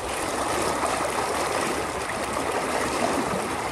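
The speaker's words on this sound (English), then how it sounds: "the water's flowing pretty damn fast" Fast-flowing river water rushing over a bedrock riverbed in the UK, a steady, close, broadband roar with no talk.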